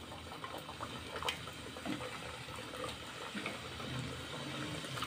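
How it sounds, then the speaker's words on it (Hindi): Namak pare dough pieces fry in mustard oil heated to its smoking point, giving a steady, close, bubbling sizzle with fine crackles that runs unbroken from start to finish, with no voices. "अब इसमें डाल देते हैं नमक पारे फ्राई होने के लिए"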